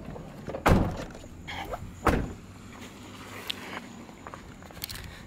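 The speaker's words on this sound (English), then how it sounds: "Let me close this door real quick." A Ford F-150 pickup door, on a 2004–2008 model, shuts with a sharp thud, followed by a second solid slam a moment later and faint handling noises in a quiet setting.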